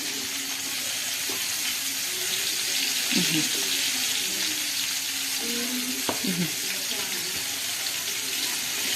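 Chicken pieces frying in hot oil KFC-style hiss with a steady, even sizzle, joined by a few light clinks and stirring sounds near the pan.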